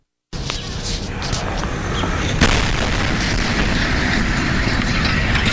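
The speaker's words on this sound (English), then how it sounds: "It literally sounds like an explosion going off there." A sudden deep boom from the 2013 Russian meteor explosion rolls out, followed by a sustained low rumble and a sharp crack midway, heavy and distant-sounding.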